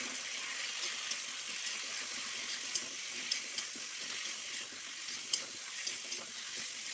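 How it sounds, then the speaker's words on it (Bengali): Garlic paste, turmeric, cumin powder, meat masala and tomato sauce fry together while being stirred, a soft, steady sizzle with faint scattered taps of the spoon, fairly quiet and without talking. "এটা আমি একসাথে সব দিয়ে দিচ্ছি। ভালো করে কষিয়ে নিচ্ছি।"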